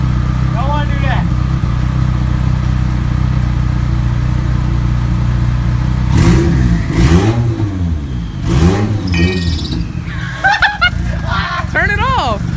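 A warmed-up Nissan 240SX fitted with a new turbo idles loudly nearby, then gets several quick throttle blips with rising and falling revs, and a voice talks over it.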